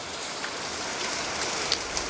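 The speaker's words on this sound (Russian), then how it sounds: "А дождь идет." Winter rain falls steadily outside in Spain, a dense, even hiss with a few louder drops hitting a surface, heard alone with no voices.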